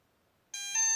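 An electronic speed controller for a motor gives a series of electronic beeps during throttle calibration, with the throttle set to full. After silence come two close, clear, steady tonal beeps, the second slightly louder.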